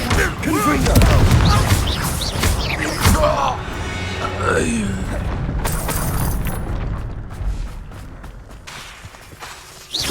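A Confringo fire spell in Hogwarts Legacy lands with a loud booming blast near the start, its rumble trailing off as a voice shouts the spell and later speaks.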